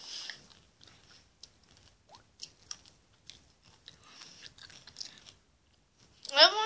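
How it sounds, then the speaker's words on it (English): Crisp bites and crunchy chewing of fresh cucumber, close to the mic, in irregular bursts with short pauses between them, and a louder clatter at the very end. "Eat cucumber."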